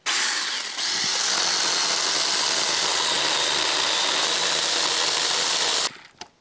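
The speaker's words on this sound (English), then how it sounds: "little Seaside mini chainsaw" A small Seaside mini chainsaw engine runs loud and steady at high revs for several seconds outdoors in lake-effect snow at a camp, then cuts off abruptly.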